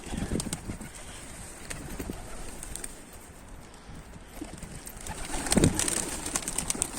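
A young blue pigeon, a 'sinekli mavi', coos faintly and intermittently amid the outdoor ambience of a pigeon loft, with a few soft clacks and a brighter burst near the end.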